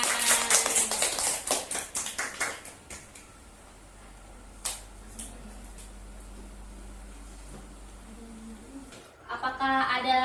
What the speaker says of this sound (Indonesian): Beri tepuk tangan untuk Najla yang sudah berani maju ke depan.